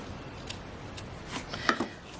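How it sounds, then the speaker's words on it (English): Scissors snip through die-cut card pieces in a few quick, close cuts, each a short crisp crunch, with soft handling rustle between them. "And then I'm just going to cut these."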